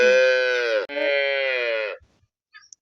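A cow gives two loud, close, drawn-out calls with a short break between them, then falls quiet. No one speaks.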